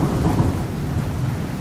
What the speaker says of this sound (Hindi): तभी बाहर जोर से बारिश और तूफान आने लगता है।